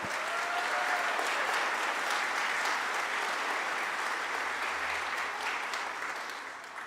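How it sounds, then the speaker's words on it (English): An audience at a St. Petersburg town hall on Social Security and Medicare gives a big round of applause, dense and steady clapping from a crowd that tapers slightly at the end. "A big round of applause there."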